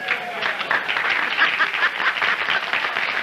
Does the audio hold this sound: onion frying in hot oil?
no